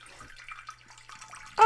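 Water poured into the bottom of an Instant Pot's inner pot in a home kitchen: a faint, steady trickle and splash that ends in a brief, louder metallic clatter.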